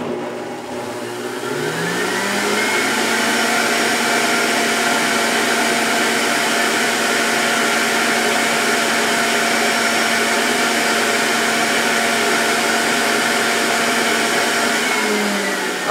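PowerXL Self-Cleaning Juicer running at high speed, a steady loud motor whine with a rising pitch as it spins up, then a continuous buzzing drone held close throughout.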